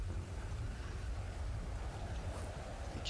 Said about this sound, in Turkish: fırtına çıktı